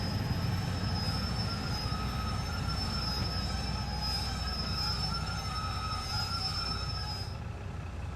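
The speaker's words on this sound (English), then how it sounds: "To bring the train to a stop gently, put it in step 1 brake." Class 150/2 diesel train in Train Sim World 2 braking to a stop, with a sustained high wheel squeal over a continuous low rumble of rolling stock, fading slightly near the end.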